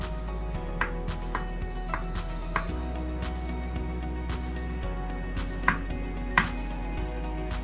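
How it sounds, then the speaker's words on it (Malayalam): Fresh mushrooms for a Kerala thoran are halved and sliced with a knife on a board, giving light, evenly spaced taps over a constant low background hum. "ഇതിങ്ങനെ രണ്ടായിട്ട് മുറിച്ചിട്ട് നമുക്ക് ഇതിങ്ങനെ കട്ട് ചെയ്ത് കൊടുക്കാം."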